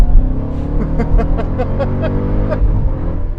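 Jeep Grand Cherokee Trackhawk with a 6.2 V8, 2019, accelerating from a light touch of the throttle, a loud, steady engine roar rising in pitch through several quick gear steps, heard close with no talk.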